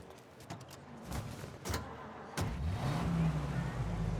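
A 1930s-era car in the Mafia video game moves off after a few sharp clicks and knocks, then its engine revs up and holds a rising, moderately loud drone.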